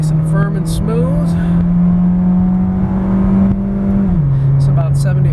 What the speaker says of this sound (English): this will be a 0 to 60 pull, starting out at 0, 3, 2, 1, and go